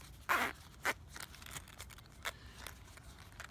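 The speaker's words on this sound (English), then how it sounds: "And then you zip it up." Someone zips up the zipper on a small carrying case for a power bank, making a few short, close rasping pulls separated by light handling noises.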